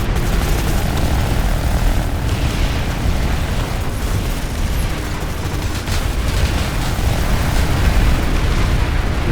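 A jeep drives in the video game PlanetSide 2: a loud, continuous engine roar and rumble that fills the whole stretch, with heavy noise over it and no speech.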